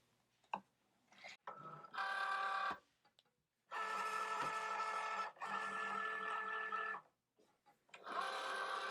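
Cricut Joy cutting machine draws in its mat, aligns it and cuts, giving quiet whirring motor bursts of a few seconds each, separated by silences and small clicks.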